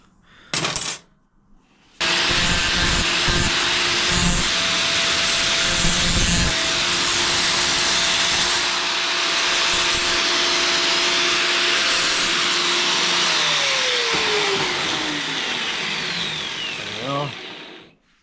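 A polishing machine spins up and runs with a loud, steady whirring grind while buffing a small part of a leather battery strap, then winds down with a falling whine; a few knocks come before it starts.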